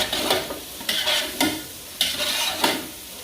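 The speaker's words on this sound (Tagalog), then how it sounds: "Ngayon naman, ilagay na natin yung repolyo" Cabbage goes into a pan for a Thai mixed vegetable stew and gets stirred, with a steady sizzle broken by sharp scraping strokes of the spoon roughly every half second, close and fairly loud.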